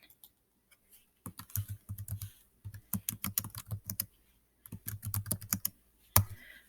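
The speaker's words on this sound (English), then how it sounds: "So I'm going to type that in." Computer keyboard typing in quick clattering runs of keystrokes, close and clear, with short pauses between bursts and a final sharp key tap.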